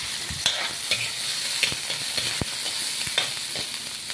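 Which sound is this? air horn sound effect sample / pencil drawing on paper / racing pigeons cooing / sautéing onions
sautéing onions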